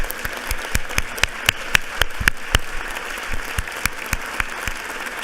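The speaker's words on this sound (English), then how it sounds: "I'd like to give a round of applause in honoring and celebrating Amira" Applause in a legislative session chamber honoring a guest, a moderate scattering of distinct hand claps in an uneven rhythm from a modest group, fairly near and fading toward the end.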